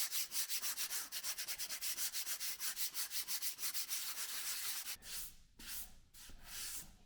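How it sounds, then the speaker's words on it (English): Hand sanding of quick-dry filler patched into a hole in a ceiling, using a 240 grit sanding pad: steady rhythmic back-and-forth rasping strokes, close and fairly loud, then a few slower separate passes near the end, with no talk. "We give 240 grit a go with a sanding pad."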